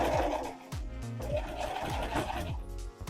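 A sewing machine stitches fabric for a bag with a steady, rapid mechanical whirring and rhythmic clatter, heard up close and without speech.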